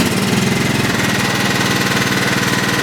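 A John Deere STX38 lawn tractor engine idling, a steady, close, rapid chugging putter that runs evenly with a slight pulse throughout.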